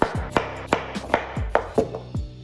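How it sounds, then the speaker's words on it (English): A knife rough-chops potatoes into chunks on a cutting board, about eight sharp thuds in a steady, unhurried rhythm, close by. "We're just rough chopping it into chunks"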